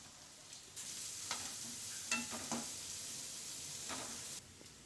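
Finely chopped cabbage stir-fried in a pan for egg fried rice gives a soft, steady sizzle, broken by a few scraping stirs of a spatula against the pan. No one speaks.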